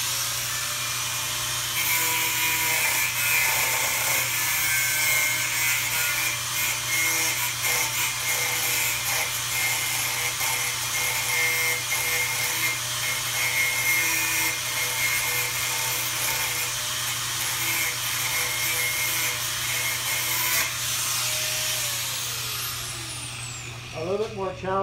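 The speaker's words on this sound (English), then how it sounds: "So I'll just be left with some slivers of metal that I'm going to then carefully grind out with the," An angle grinder disc cuts and grinds flat bar metal in a continuous, loud, high-pitched whine with a steady grinding rasp that holds for over twenty seconds before spinning down at the end.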